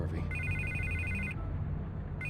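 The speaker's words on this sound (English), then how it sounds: "I can't get the phone to stop ringing." A telephone rings with a shrill electronic trill in the Batman Telltale Series video game. Two bursts of ringing are separated by a short pause, and low music or room hum plays beneath.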